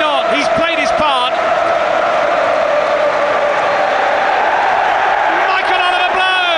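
Football stadium crowd at a Tottenham Hotspur versus Manchester United match, a loud continuous roar of cheering and chanting with a sustained sung tone, a commentator talking over it at the start and end.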